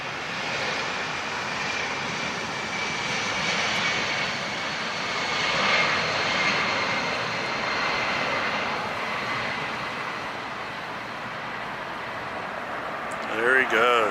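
Pratt & Whitney engines on a jet airliner roar steadily at a busy airport, loud and sustained for the whole stretch, swelling slightly in the middle, with a short burst of closer noise near the end.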